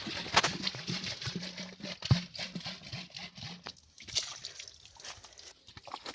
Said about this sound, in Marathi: आम्हाला लावले पाणी भरायला. एकदम अनलिमिटेड पाणी आहे डायरेक्ट.